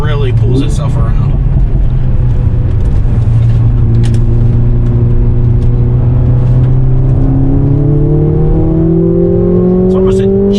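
2022 Mercedes-Benz GLA45 AMG accelerating out of a corner, a loud in-cabin engine drone rising steadily in pitch as it pulls, with a voice talking faintly over it.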